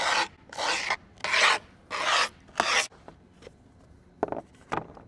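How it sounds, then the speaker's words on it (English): The side of a screwdriver scraping grip tape around the edge of a skateboard deck: five loud, close, rasping strokes in a steady rhythm, followed by a few fainter, shorter scrapes. "I'm going to use the side of the screwdriver. You're going to scrape around the edge of the deck at a little angle."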